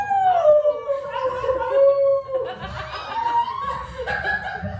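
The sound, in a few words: person imitating a wolf howl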